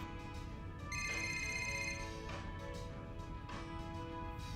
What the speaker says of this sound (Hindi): किसका फोन हो सकता है?